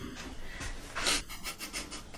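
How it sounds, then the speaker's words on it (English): Rhythmic, raspy breathing bursts repeat about every half second, a dog snoring or panting close by with a louder snort in the middle. "trying to wake the dog up to stop him snoring in the video"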